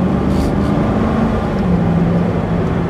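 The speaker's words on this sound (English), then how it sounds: "The next thing you notice is how beautiful of a sound the engine produces." A 2007 Chevrolet Corvette engine while driving, a steady low droning rumble heard from inside the car under a continuous road and wind hiss, even and unbroken throughout.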